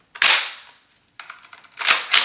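Sharp metallic clacks of a rifle action being cycled with snap caps, an IWI Tavor 7 7.62mm bullpup, a quick snap, then a pause and a rapid double clack, close and loud.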